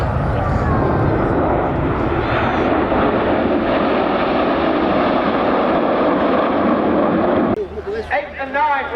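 Red Arrows display jets roar overhead at the RAF Cosford Airshow, a loud continuous jet rumble that swells and fades, with an announcer's voice heard over a public address.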